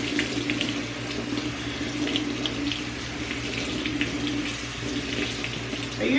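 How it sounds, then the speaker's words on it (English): Tap water runs steadily into a sink while quinoa is washed in a drainer, a constant close hiss and splash with faint rustling from the grains and no talking. "I'm washing my quinoa"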